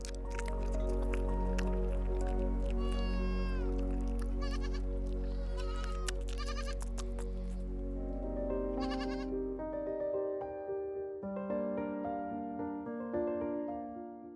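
Goats bleat among argan trees, a few wavering calls rising over a sustained musical backdrop that carries on after the animals fall quiet.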